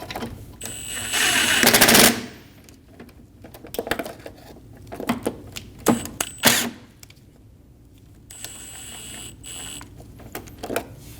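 Bolts being fitted and snugged on a 2012-2022 Volkswagen Passat AC condenser give sharp, irregular clicks and ratcheting bursts, with a loud rattling stretch near the start and scattered metallic taps after.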